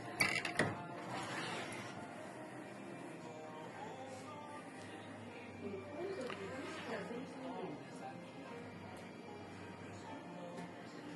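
Door mechanism of a Sub-Zero refrigerator being opened after repair, giving a steady run of soft mechanical clicks, ratcheting and faint creaks over a continuous low hum, with a sharper knock near the start and faint voices in the background.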